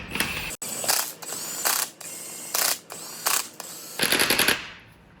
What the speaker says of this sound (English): you can take and use an impact, but make sure it's turned down to the lowest setting